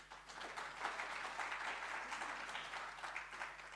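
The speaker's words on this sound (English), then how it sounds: "Clap your hands right there." An audience claps at a conversation event with President Thabo Mbeki, soft and somewhat distant, a steady patter of many hands throughout.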